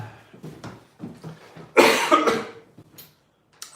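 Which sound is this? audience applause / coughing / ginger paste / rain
coughing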